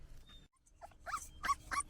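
A three-week-old puppy being weighed gives several short, high whimpers and yips in quick succession, close and fairly soft, in a quiet indoor setting.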